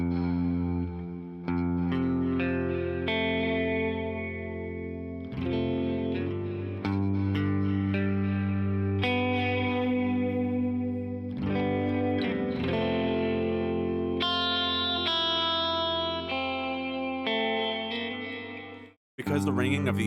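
Full guitar chords ring out with a reverb effect, sustained and layered so each strum blends into the next, with a brief drop near the end.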